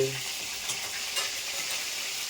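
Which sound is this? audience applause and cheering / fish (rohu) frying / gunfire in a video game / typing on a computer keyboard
fish (rohu) frying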